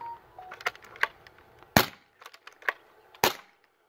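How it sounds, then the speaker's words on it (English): Shots from a PCP airgun fired on a bench after a fresh fill, sharp cracks standing out against quieter ticks and clicks in between, close and loud in a fairly quiet outdoor setting. "Let me get it on the bench and shoot 5 shots."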